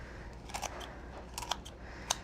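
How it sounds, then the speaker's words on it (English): Kitchen scissors give several crisp snips and crunches through chicken rib bones, in short uneven bursts over a low, steady background hum. "the scissors make quick work of slicing through those rib bones"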